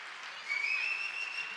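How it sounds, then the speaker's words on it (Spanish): Audience clapping at a round-table science event, a steady moderate patter of applause from a crowd with a faint whistle cutting through it. "el aplauso ya se lo habéis dado de motu propio"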